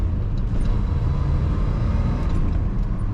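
Close by, the engine of a 1970 Chevrolet Chevelle Malibu Sport Coupe with a four-speed manual runs at an even idle, a low rumble that holds steady and is heard alone.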